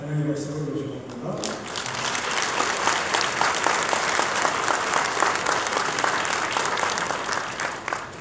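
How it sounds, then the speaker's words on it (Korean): Welcoming applause from the audience at a Korean church evening gathering, starting after a brief spoken introduction and swelling into dense, sustained clapping from many people that carries on steadily to the end. "한유관 교수님께서 환영의 박수를 부탁드립니다."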